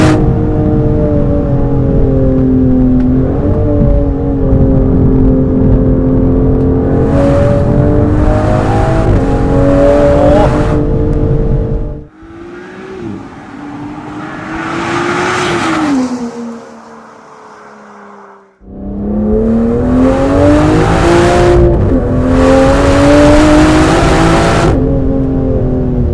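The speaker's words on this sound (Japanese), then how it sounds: "凄まじいトルクの山で車がねガンガン加速してきます" A 2025 Aston Martin Vanquish accelerates hard on a winding road, its loud engine climbing in pitch through the gears, easing off briefly mid-run and then roaring back up.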